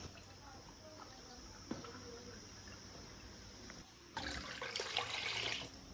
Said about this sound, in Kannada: ನಾನು ಫಸ್ಟ್ ಈ ಗ್ಲಾಸಿಂದ 2 ಗ್ಲಾಸ್ ಅಷ್ಟು ನೀರನ್ನ ಹಾಕೊಳ್ತೀನಿ.